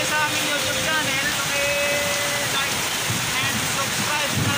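Heavy rain pours steadily with strong gusting wind on a road in Tagaytay, a loud, dense roar filling the whole stretch, with a faint voice briefly under it.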